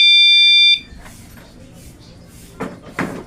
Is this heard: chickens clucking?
no